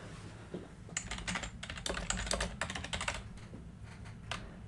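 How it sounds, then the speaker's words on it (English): Rapid typing on a computer keyboard while entering reconciliation line items, steady clusters of close, crisp key clicks with short pauses between bursts, no voices. "type your line items in one at a time"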